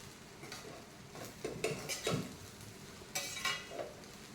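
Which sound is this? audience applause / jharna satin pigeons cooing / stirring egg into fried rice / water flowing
stirring egg into fried rice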